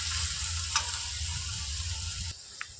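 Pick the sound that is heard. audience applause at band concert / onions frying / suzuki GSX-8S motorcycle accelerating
onions frying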